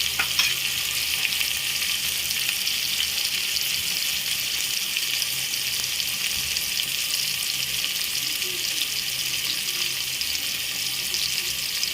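Onion and tomato fry in hot oil while being stirred, a steady close sizzle with faint scraping running the whole time and no talking.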